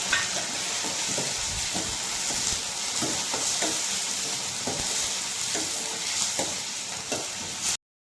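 Tomato frying in a pan for moong dal curry, a constant dense sizzle close up with repeated soft scrapes of stirring at an uneven rhythm, cutting off abruptly at the end, no speech.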